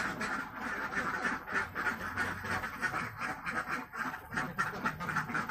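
Many farm ducks raised for egg production quack continuously in a dense, overlapping chorus, moderately close and steady throughout with no talking.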